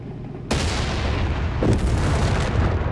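Loud blasts of grenades going off in Company of Heroes 3, a sharp boom at the start and another about a second later, over a dense, sustained battlefield rumble.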